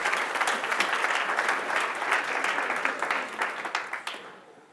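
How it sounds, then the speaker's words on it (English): Conference audience at the GraphConnect Europe 2015 opening keynote bursts into sustained applause, a dense wash of many hands clapping that holds steady and then thins out and fades at the end. "give yourselves a huge round of applause."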